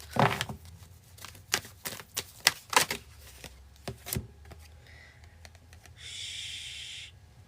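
Tarot cards get a quick shuffle, a run of crisp riffling snaps and flicks in irregular bursts, close and clear, followed by a short steady hiss at the end.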